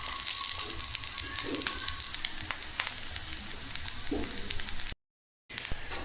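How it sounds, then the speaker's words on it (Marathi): Sabudana and potato appe frying in an appe pan over a low gas flame, a steady soft sizzle with faint crackles running continuously, cut by a brief dropout near the end. "आता कमी गॅसवर 5 मिनिटं असंच भाजून घेऊ"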